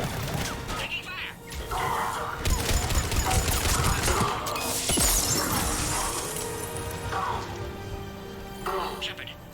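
Sustained bursts of automatic gunfire and crashing impacts fill a Mass Effect 3 firefight on PC, loud and close under shouted voices.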